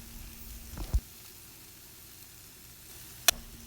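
Brinjal and potato subzi cooks in a pan under a faint, steady sizzle while the vegetables are gently mixed, with two distinct spatula knocks against the pan.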